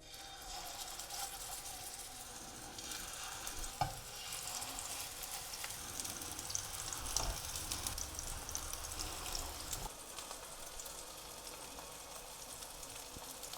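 Chicken kebabs fry in a pan over medium-low heat, giving a soft, steady sizzle at low volume with occasional faint clicks and shifts.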